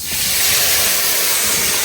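Vegetables, including elephant foot yam, hit a hot wok just after fish frying, releasing a loud, dense, even hiss that fills the short stretch without pause.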